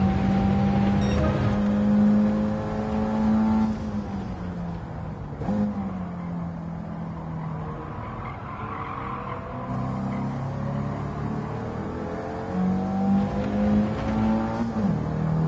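A Panoz GT1-class race car engine in the Gran Turismo 7 video game howls continuously, its pitch rising and falling through gear changes and revs across the whole stretch, loud and with no talking.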